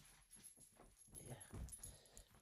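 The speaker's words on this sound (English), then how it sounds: "she's a miniature poodle" A miniature poodle whimpers in a few soft, faint whines and snuffles, close but quiet, with low background murmur.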